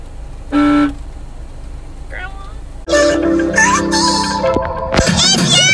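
A broken car horn honks in short, loud blasts: one early toot, then a harsh overlapping burst of honks later on. Voices and traffic noise are heard around the horn.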